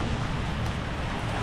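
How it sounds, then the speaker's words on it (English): Steady rain falling outdoors on a rainy day, a dense, even hiss that stays constant and fairly loud throughout with no voices over it. "Okay, it's raining today."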